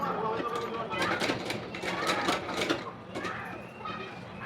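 Sewing machine stitching piping strip onto a blouse neckline, a steady close mechanical whir with rhythmic needle ticking that runs continuously throughout, with faint background voice.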